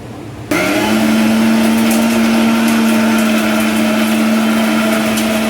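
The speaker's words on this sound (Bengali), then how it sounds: "দিয়ে এবার এটা ব্লেন্ড করে নিতে হবে হ্যাঁ" A blender grinds thankuni leaves with salt, a little turmeric and a splash of water into a paste, kicking in after a brief quiet start and then running as a loud, steady, close whirring motor to the end.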